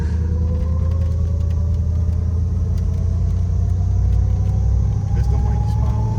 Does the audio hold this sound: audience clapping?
no